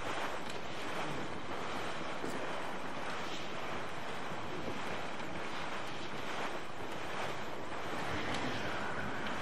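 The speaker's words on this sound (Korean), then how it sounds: "바람 분다, 바람 분다" Steady wind roars over ocean surf in the pirate sailing game Assassin's Creed IV Black Flag, a continuous, dense rushing wash that holds at an even level throughout with no talking.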